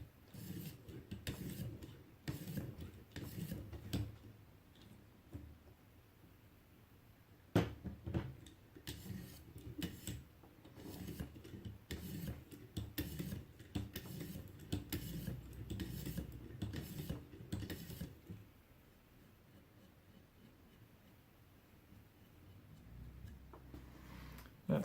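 A Griptilian knife blade is drawn across a ViperSharp sharpener in repeated quick scraping strokes, bunched into bursts with short pauses, close and fairly quiet, with no talking.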